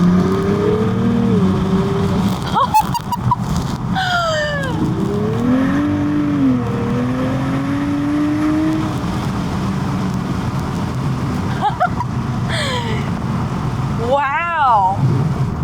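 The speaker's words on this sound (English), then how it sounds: "APEXi did a really good job with this exhaust system." A 2023 Nissan Z engine revs repeatedly through an APEXi aftermarket exhaust with a raspy, crackling note, rising and falling in pitch, with people talking over it.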